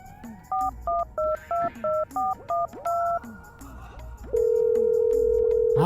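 Eight quick dual-tone beeps as a phone number is keyed in, followed by a steady ringing tone on the line.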